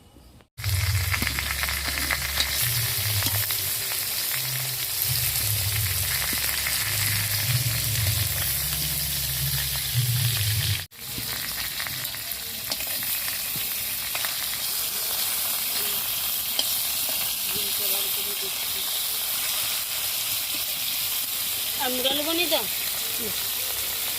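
Fish frying in oil in a home kitchen, a steady loud sizzle and crackle running the whole time with stirring clatter and a low hum early on; a voice speaks over it briefly near the end.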